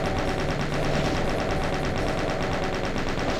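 Rapid, continuous gunfire from the video game Doom, a dense unbroken machine-gun rattle, loud and close with no pauses and no talk.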